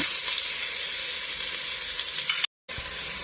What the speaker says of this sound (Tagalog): Sunod na natin ang ating chicken.